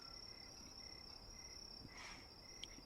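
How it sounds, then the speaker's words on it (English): Crickets chirp as a sound effect, a steady high trill running throughout at low level with a faint brief rustle near the end. "Crickets."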